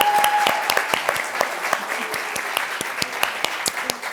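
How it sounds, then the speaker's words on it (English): Audience applause for a panel at a Washington DC Cafecito event: a steady crowd clap with sharp individual claps standing out, fairly close and continuous throughout. "a big round of applause for our panel"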